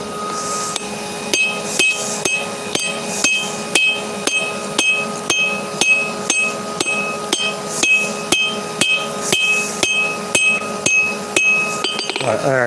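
Hammer blows forge a farrier's rasp into an axe, a long run of sharp ringing metallic strikes at a steady, regular rhythm, each hit bright and close, roughly two per second, with no talking over them.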